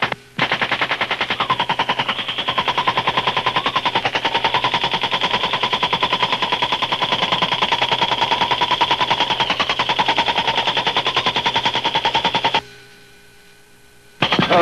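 Machine gun fire from a Vietnam War helicopter gunship attacking Viet Cong positions, a loud, continuous rapid-fire rattle lasting about twelve seconds before cutting off, then resuming briefly at the end.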